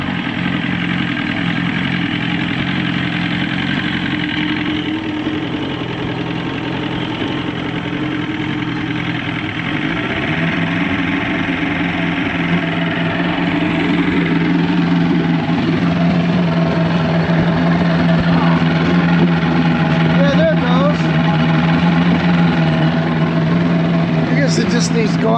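A 115 hp Evinrude outboard motor on a 1973-74 Glastron hull, idling loud and close, then revved up in a steady rise with people talking over the engine.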